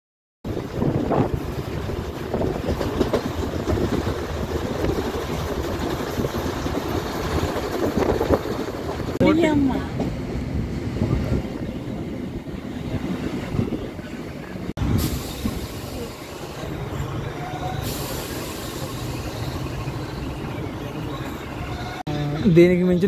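A MEMU express train between Rajahmundry and Visakhapatnam runs steadily, with a continuous rumble and wind noise throughout.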